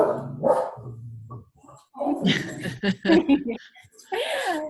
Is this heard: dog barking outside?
yes